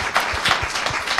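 An audience at a talent show final applauds briefly, a moderate patter of clapping with a few distinct claps standing out.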